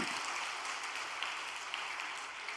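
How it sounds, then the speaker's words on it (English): Dense, continuous applause from a church congregation fills the space, a steady wash of many hands clapping at a moderate distance. "a big round of applause once again to our Heavenly Parent"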